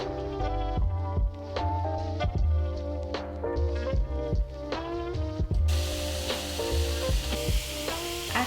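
Vegan lobster pieces sizzle steadily in a hot pan, a constant frying crackle heard beneath pitched background music with a regular beat.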